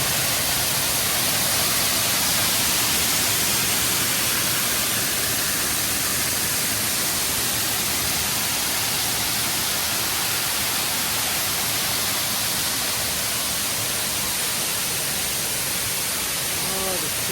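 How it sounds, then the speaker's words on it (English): Small waterfall on a walk around Rouken Glen in Glasgow, a steady broadband rush of falling water filling the whole stretch, close and constant without pauses. "Not a massive waterfall, but it is a waterfall."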